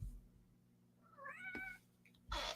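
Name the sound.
cat meowing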